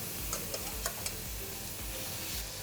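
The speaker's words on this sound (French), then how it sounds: "Très peu d'huile d'olive. Saisir le poulet." Chicken sizzles softly searing in a little olive oil in a hot pan, with a few light taps and clicks of a utensil against the metal.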